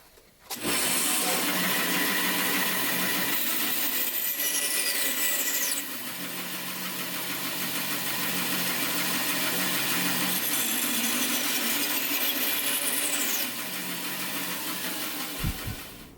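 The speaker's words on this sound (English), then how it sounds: "I'm going to use a bandsaw because it's going to make pretty quick work of this" Bandsaw cutting excess wood from a spline box joint, a continuous loud rasping hum that rises and falls in pitch as the blade works through the stock, ending in a brief clunk.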